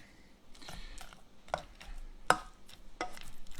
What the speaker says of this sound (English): You can stir right around the edges.